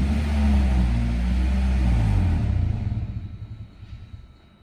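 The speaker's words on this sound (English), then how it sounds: "It's got an exhaust leak, likely from the accident." Idling engine of a 2014 Subaru Legacy Outback with an exhaust leak after an accident: a loud, close, low rumbling drone that holds steady and then fades and eases down toward the end, with no talking.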